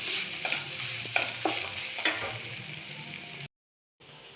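Crushed coconut stirred and frying in a pan for jackfruit thoran, with soft sizzling under a series of spoon scrapes and knocks, then a short silent gap before the sizzle resumes.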